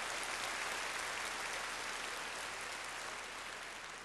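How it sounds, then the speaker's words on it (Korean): A church congregation at a summer retreat evening service claps together, a dense, even wash of applause that carries on steadily and fades slightly at the end. "하나님 앞에 영광의 박수를 들으십시다"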